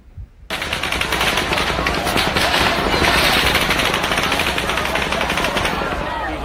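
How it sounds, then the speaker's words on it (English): Continuous automatic weapon gunfire from the Las Vegas mass shooting, heard in live breaking news footage as rapid sustained bursts that rattle on without pause after a brief quiet start. "you can tell by the gunfire, some of these, maybe all of them, were automatic weapons"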